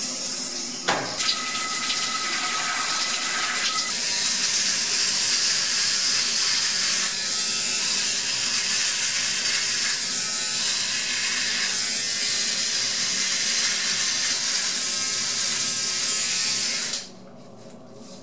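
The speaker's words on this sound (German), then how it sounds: "Ich gehe jetzt duschen." A shower runs continuously for a long stretch, a steady hiss of spraying water with faint mechanical rattles, before it is shut off near the end.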